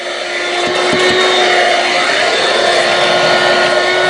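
A Dirt Devil SimpliStik 3-in-1 corded stick vacuum runs in handheld mode with its crevice tool fitted, giving a loud, steady motor whine with a rushing airflow roar after a brief spin-up.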